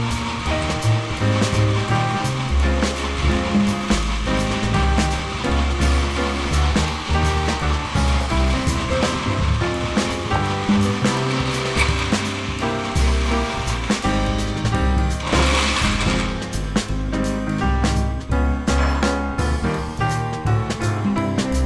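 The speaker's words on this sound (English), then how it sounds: "now it's time for our final blend before we drink our smoothie" A blender runs continuously at full power, blending frozen banana, blueberries and oats into a thick smoothie, with a loud, steady churning roar and no pauses.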